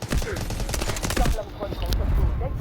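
Rapid bursts of automatic gunfire strike the player in the video game Delta Force, a dense, loud rattling volley that eases off after about a second and a half, with occasional sharp shots following.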